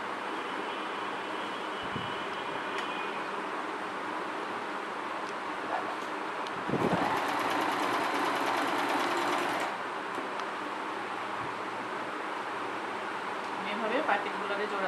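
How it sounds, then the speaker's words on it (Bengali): A sewing machine stitches fabric piping together in a domestic setting, a low steady hum with a louder three-second burst of rapid stitching midway, amid room noise and brief handling clicks. "প্রথমে আমি পাইপিংগুলো আমি সেলাই করে নিব, মানে জোড়া দিয়ে নিব"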